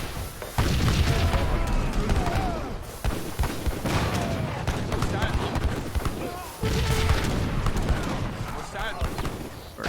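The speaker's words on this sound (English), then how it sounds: "Artillery moving in." Artillery fire in Age of Empires III Definitive Edition during a 2v2 battle: dense, continuous booms and gunfire with heavy low thuds throughout, under someone talking.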